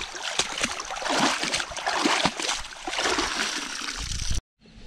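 A freshly caught fish is rinsed by hand in water, with close splashing, sloshing and trickling that runs unbroken before stopping abruptly near the end.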